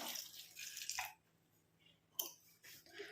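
A tumbler of water poured onto flowers in a container, quiet close splashing and trickling in two short bursts separated by a near-silent pause.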